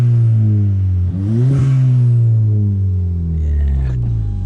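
Inside a Stage 2 Ford Fiesta ST180 making 235 bhp, a loud engine drone rises in a rev and then settles into a steady hum, boomy and close throughout.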